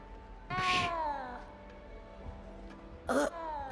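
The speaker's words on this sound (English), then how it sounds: "You don't need to be frightened, little cat." A little cat in the video game Hogwarts Legacy lets out a drawn-out meow, then a second shorter one a few seconds later, over a faint background hum.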